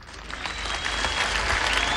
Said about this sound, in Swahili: tumpigie Kĩgia makofi